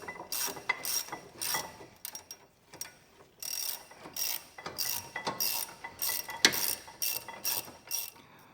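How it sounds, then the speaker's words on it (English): Hand ratchet tightening brake caliper bracket bolts on a 2013–2019 Ford Escape, a close run of rapid clicking strokes in repeated bursts with brief pauses between, no voices over it. "Once those are started, then we'll tighten them up here a little bit."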